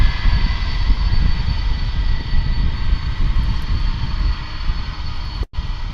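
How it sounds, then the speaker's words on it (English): Steady, loud roar of airliner jet engines at DFW airport, a broad even rumble with a faint high whine held throughout, cut by one brief dropout near the end. "these engines are revving up now"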